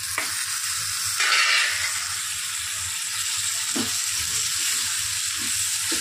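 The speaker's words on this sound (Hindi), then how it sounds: "टमाटर को अच्छे से भून लेना," Tomatoes fry in a hot pan with a steady close sizzle, while a spoon stirs and scrapes now and then and rattles against the metal.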